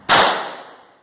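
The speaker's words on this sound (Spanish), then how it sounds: "El disparo te sorprende." Single sharp handgun shot at a practical shooting lesson, a loud close crack with a quick attack and a ringing decay that fades over about a second, alone with no speech.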